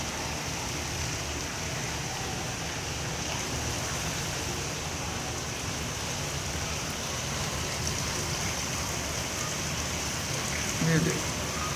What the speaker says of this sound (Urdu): زبردست تیز بارش ہو رہی ہے.